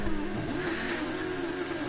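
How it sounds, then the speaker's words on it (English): Race car engines rev together at the start line in the video game GT Sport, a dense, steady droning roar held at a loud, even level for the whole moment. "So the lads revving the engines"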